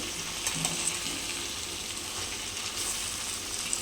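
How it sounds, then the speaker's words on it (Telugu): Sorrel greens with salt and chana dal are stirred and mixed in a hot pan, giving a steady close sizzle with soft scraping from the spoon and no talking. "దీన్ని ఇప్పుడు మంచిగా కలుపుకోవాలి"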